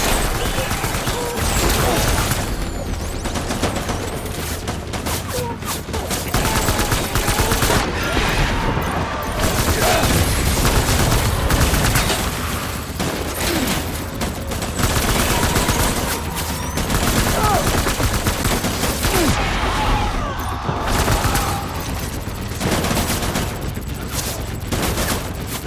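Gunfire in Death Stranding game combat, loud sustained bursts of rapid shooting and fusillades with brief lulls, mixed with a little shouted voice.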